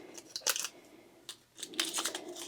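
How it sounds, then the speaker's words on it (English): Scissors cut through tape on a Christmas craft in short bursts of crisp snipping and rustling, a few separate cuts with pauses between them, close and fairly quiet. "let me grab my scissors, and I'm going to cut away"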